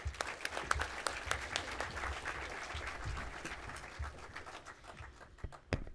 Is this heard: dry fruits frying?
no